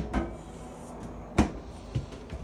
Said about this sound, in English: These two doors you want to make sure close all the way before you run the slide rooms in or out